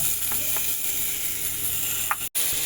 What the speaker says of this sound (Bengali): যার জন্য আমি একটু সবজিগুলোকে এইভাবে হালকা করে ভেজে নেব